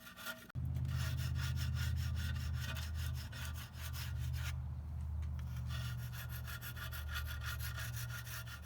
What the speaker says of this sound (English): That's what we got, the acetone and some razor blades to scrape with.